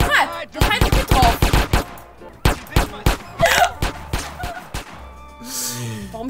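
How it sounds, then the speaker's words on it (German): Rapid bursts of gunfire from GTA: San Andreas, loud, close shots in quick clusters with pauses between, over game sounds, with a voice talking briefly near the end. "Warum schießt der jetzt immer?"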